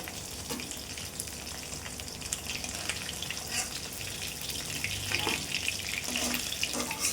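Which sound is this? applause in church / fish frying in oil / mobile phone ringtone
fish frying in oil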